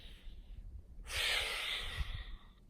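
One long, forceful exhale through the nose and mouth during a Pilates core stretch, close to the mic, preceded by a softer breath in.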